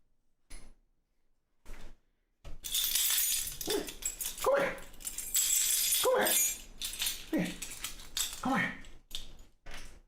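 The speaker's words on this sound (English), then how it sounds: "Let me see if I can get the dog here." A dog moves about close by amid bursts of rustling, clattering and jangling noises, with quiet gaps before the activity picks up and continues in uneven spurts.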